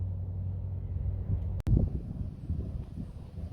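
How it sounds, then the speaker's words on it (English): Steady wind buffeting a microphone outdoors on open rural land, a continuous low rumbling roar with a brief dropout partway through, no voices. "You have to pardon the wind because it's getting windy"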